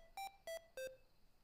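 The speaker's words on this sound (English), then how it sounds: "If he doesn't see this light for some reason, the GlowCap plays a ringtone" GlowCap internet-connected pill cap sounding a reminder ringtone, three short clear electronic tones in quick even succession, each stepping slightly lower in pitch, fairly quiet and alone.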